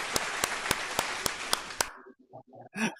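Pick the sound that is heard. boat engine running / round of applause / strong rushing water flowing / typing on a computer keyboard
round of applause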